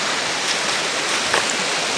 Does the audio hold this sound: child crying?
no